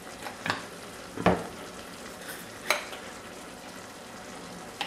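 Steady frying sizzle of chicken gizzards in a multicooker, with a few sharp clinks of a utensil stirring in the pot, no voices.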